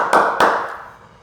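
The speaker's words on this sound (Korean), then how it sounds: "주님께 감사와 영광의 박수 올려드리겠습니다" Two sharp bursts of hand clapping from a small church congregation at an early morning prayer service, quickly fading out rather than building into sustained applause.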